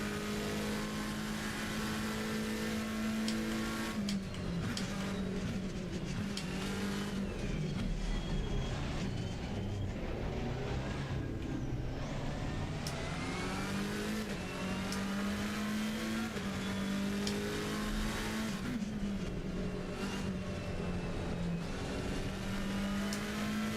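Race cars lapping the Red Bull Ring in the Assetto Corsa Competizione sim racing game, a continuous loud engine drone rising and falling through gear shifts and revs, with other cars close by.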